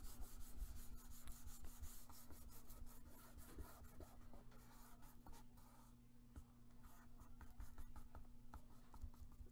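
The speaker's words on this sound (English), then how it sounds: "And let's burnish that down." Paper on a book cover is burnished down with a tool, giving a quiet, continuous scratchy rubbing with rapid repeated strokes, close and soft, with no talking.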